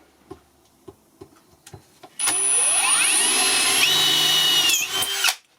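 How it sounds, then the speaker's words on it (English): A few sharp ticks and taps come first, then a power drill starts loud and whines steadily for about three seconds, boring a second center-punched rivet hole in sheet metal for a DIY glass-fusing kiln. It stops abruptly. "drill the next."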